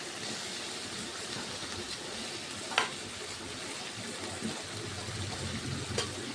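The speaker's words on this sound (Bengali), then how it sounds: "তারপরে আলু ভাজাগুলো আমি কড়াই দিয়ে দেবো" Fried potatoes sizzling in oil in a wok, a soft continuous hiss with a few sharp clicks from stirring, fairly quiet and without talk.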